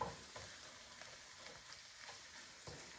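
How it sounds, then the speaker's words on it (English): A utensil stirs and folds melting cheese into Philly cheesesteak meat in a single pot, making faint, soft scraping and squelching strokes at an irregular pace over a low sizzle. "And now the residual heat will just melt this cheese. And just kind of fold it in."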